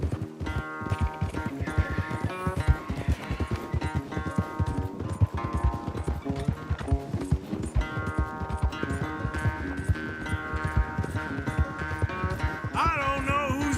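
Horses gallop in a race in the Red Dead Redemption 2 game, a rapid, continuous drumming of hooves close by over a layer of musical score, with no talk.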